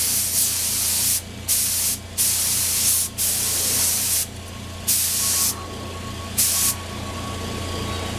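A spray gun lays a white base coat on Yamaha FZ600 motorcycle parts, giving six loud hissing bursts of one to two seconds each separated by short pauses over a low steady hum, with no talk.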